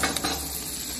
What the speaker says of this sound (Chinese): 好啊，葱姜蒜，爆炒